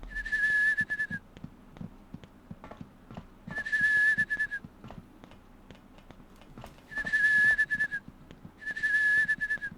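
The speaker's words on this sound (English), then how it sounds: "you can hear that kid whistling next to" A child whistles in the Rule of Rose video game, four sustained high, steady notes in separate bursts over a quiet background with soft footsteps.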